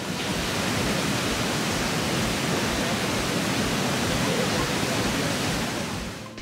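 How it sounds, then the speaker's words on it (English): Rushing water of Twin Falls in Lynn Canyon Park, a creek in torrent after heavy rain, roars as a loud, steady broadband wash close by, unbroken for the whole stretch with no voices over it. "just listen to the power of the rushing water"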